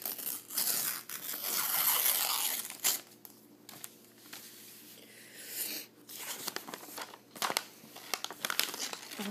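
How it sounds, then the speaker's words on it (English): Crinkling and tearing of a glossy magazine page as a coupon is ripped out, close and fairly loud, with bursts of crumpling paper and pauses between rips. "So I'm going to tear that out."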